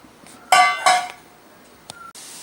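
A utensil stirring beetroot and rose juice in a pot: two sharp metallic clinks in quick succession, then a quieter tap and a short scrape, close and otherwise quiet, no talking.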